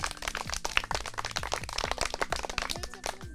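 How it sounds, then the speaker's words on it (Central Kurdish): A small audience claps for children in the village of Koyk, producing a quick, dense patter of hand claps that carries on steadily for a few seconds at moderate distance, with no talking. "ئافرین چەپڵەیەک بۆ گەردوونکیان"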